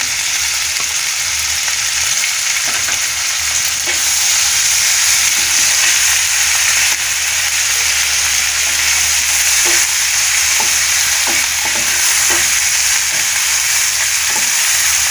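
Onion, ginger and garlic pastes with chili powder sizzle in a hot pan for royal beef korma, a steady close frying hiss broken by soft stirring scrapes, with no talking.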